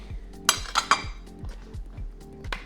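Utensils clink and scrape against a pot as cream cheese and wine are stirred together, a few sharp metallic knocks over soft rhythmic scraping, close and fairly quiet.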